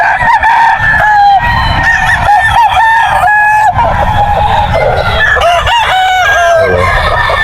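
Gamefowl roosters of Boston and Golden Boy lines, about 9 to 10 months old, crow loudly and repeatedly at close range, their calls overlapping with clucks and honking calls from other birds.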